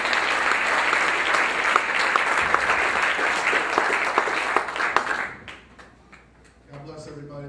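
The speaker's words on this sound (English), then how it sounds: "Let's put a clap off for you guys." A church congregation claps loudly and densely for about five seconds, then the applause cuts off abruptly into near quiet before a low voice begins near the end.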